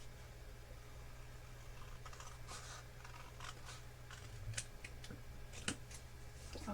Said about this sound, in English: So basically the square that you have in there, you're going to cut it.